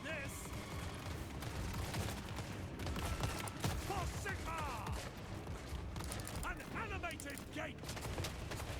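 Game gunfire from a battle where an army fights to protect its lord, crackling in busy bursts under mechanical clatter and occasional voices throughout.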